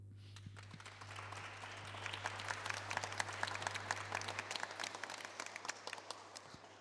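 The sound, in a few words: audience applause in church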